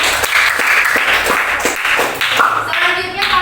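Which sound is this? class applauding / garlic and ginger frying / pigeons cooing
class applauding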